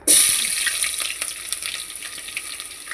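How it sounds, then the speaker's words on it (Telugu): Onions hit hot oil in a pan for chicken curry, bursting into a loud sizzle at once that settles into a steady crackling fry with small pops. "ఆయిల్ హీట్ ఎక్కింది, ఆనియన్స్ వేసుకుంటున్నాను."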